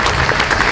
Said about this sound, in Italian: vorrei un applauso per Giacomino della Marca